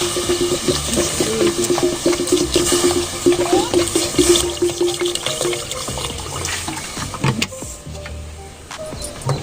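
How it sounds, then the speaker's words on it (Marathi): Water is poured into a cooking pot for jeera rice, a rushing, gurgling stream that runs for several seconds, fades, and is followed by a few clinks and knocks. "आता मी पाणी ओतते."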